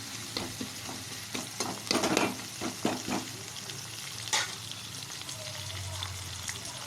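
Onions sautéing in a pan for tomato rice, a steady low sizzle with scattered scraping stir strokes, fairly close and moderate in level, with no talking over it.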